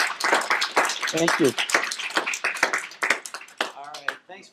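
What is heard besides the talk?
class applauding a guest over Skype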